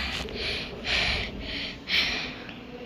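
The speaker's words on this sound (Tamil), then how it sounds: "மூச்சு வாங்குது என்ல." Rapid, heavy panting from someone out of breath, with several loud, rasping huffs repeating in an uneven rhythm, close and alone.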